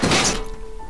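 A computer thrown and crashing in the video game Lit, a single heavy thunk with a brief breaking clatter that quickly fades into a low hum.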